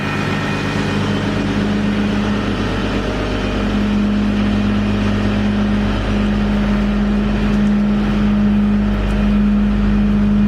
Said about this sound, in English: We'll idle the truck up just a little bit